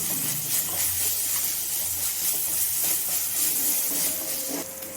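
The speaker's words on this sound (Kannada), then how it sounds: "ಶುಂಠಿ ಬೆಳ್ಳುಳ್ಳಿ ಪೇಸ್ಟು 1 ಸ್ಪೂನ್ ಹಾಕ್ತಾಯಿದ್ದೀನಿ. ಅದೊಂಚೂರು ಫ್ರೈ ಮಾಡ್ಕೊಳ್ಳಿ." Ginger garlic paste sizzles in a hot pan for tomato egg curry, a steady loud hiss and crackle that continues throughout and eases slightly at the end.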